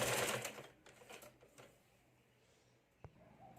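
A sewing machine runs in a quick loud burst while stitching a folded lining strip onto a katori blouse, then drops to faint mechanical ticking with one sharp click near the end.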